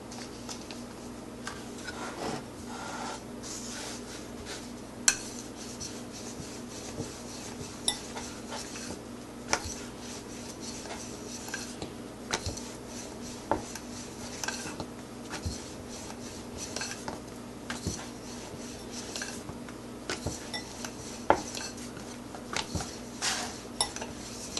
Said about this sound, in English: Now again, start rolling.